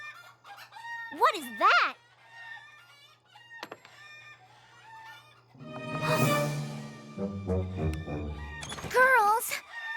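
Cartoon chickens cluck and squawk in sharp rising bursts, with a rooster-like crow, set against soft background music and a brief spoken line.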